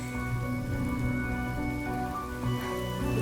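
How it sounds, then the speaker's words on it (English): Steady rain falling in the video game Honkai: Star Rail, a dense, continuous patter that stays even and fairly loud throughout with no talking, layered over low sustained tonal music. "Without this rain"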